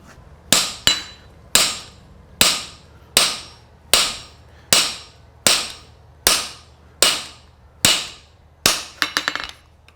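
Hammer blows ring out on a horseshoe being forged as a caulk and feather specialty shoe: eleven sharp, evenly spaced metallic strikes about a second apart, loud and close, each decaying quickly, with a quicker flurry of light taps at the end.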